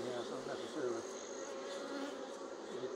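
Continuous buzzing of many honey bees inside a honey house during a tupelo honey harvest, dense and close, a steady droning hum with no voices.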